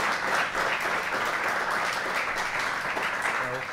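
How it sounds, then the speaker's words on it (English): A lecture audience at a science panel on drugs in sport gives a big round of applause: dense, even clapping that stays strong and continuous from start to finish. "Would you please give my panel a big round of applause?"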